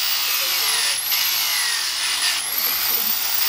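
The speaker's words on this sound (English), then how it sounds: "a sanding machine to carve" A handheld sanding machine works a piece of mahogany during carving, giving a steady, loud high-pitched grinding whine that surges slightly twice as the tool presses in, continuous for the whole stretch.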